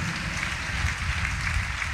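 Church congregation clapping together during a sermon, a steady, moderately loud wash of many hands with a low rumble underneath and no talk over it.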